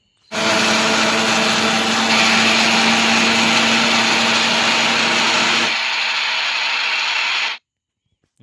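A mixer grinder whirs steadily as it grinds almonds and sugar into powder, a loud continuous motor roar lasting about seven seconds before cutting off abruptly, with no voices.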